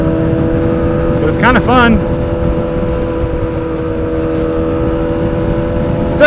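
A Yamaha R6 motorcycle engine idles loud and steady at close range, a constant droning hum with a brief rising rev near the start, while someone talks over it.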